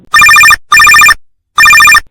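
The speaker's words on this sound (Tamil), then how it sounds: "இது என்ன இந்நேரத்துக்கு அம்மா ஃபோன் பண்றாங்க" A telephone rings three times, each a loud, close, warbling electronic trill of about half a second, with short gaps between. It comes from a Tamil audio drama and plays alone, with no voices.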